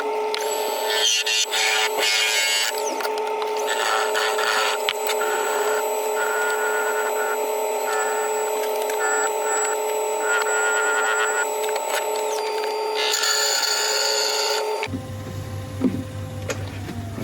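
A wood lathe spins a bottle opener blank with a loud steady whine and layered tonal hum, as sanding adds brief scratchy bursts. Near the end the pitch drops into a lower droning rumble.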